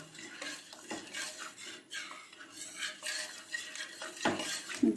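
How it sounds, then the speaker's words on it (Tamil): A spoon works boiled moong dal through a pot of Ramadan nonbu kanji, scraping and clinking against the metal vessel in an irregular, close-up rhythm with no talking. "நான் தனியாக அவிச்சு இதில் ஊற்றுறேன். ஊற்றிட்டு நல்லா மிக்ஸ் பண்ணணும்."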